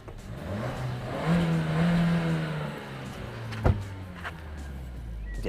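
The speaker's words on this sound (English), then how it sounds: "Yeah, you want to hear it, don't you, revving?" A car with a sports exhaust, heard from inside the cabin as its engine rises in a steady rev, holds, then falls back to idle, with a sharp click partway through.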